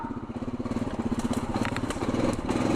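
A Honda Rubicon 520 ATV engine chugs over a pile of junk, a close, rhythmic pulsing throb with crackles and debris crunching under the tires.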